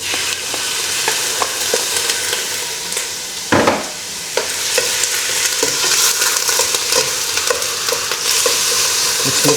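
Chicken stir-frying in a hot pan, a steady close sizzle and crackle with scraping and stirring clatter throughout and one louder burst of frying midway, no voices.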